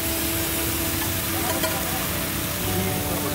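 A steady, close hissing sizzle of tempering spices frying in hot oil at an Indian street food stall, continuous and crackly throughout.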